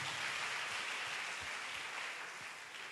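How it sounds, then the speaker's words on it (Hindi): A church congregation at a Sunday prayer service claps together in thanks to God, a steady, dense patter of many hands that fades slightly toward the end. "तो ताली बजा के परमेश्वर को धन्यवाद दिए।"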